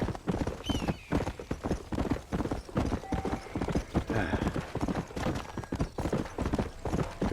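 Horse hooves clip-clop steadily on a long ride in Red Dead Redemption 2, a brisk even rhythm up close, with a brief whinny and soft ambient sounds underneath.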